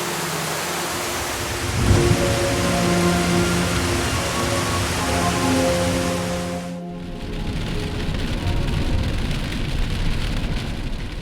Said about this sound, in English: on the day of our trip, it rained so hard